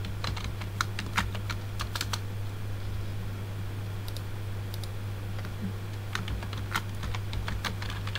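Computer keyboard typing in MS Word, an irregular run of close, crisp key clicks in short bursts with pauses, over a steady low electrical hum and faint fan noise; no one speaks.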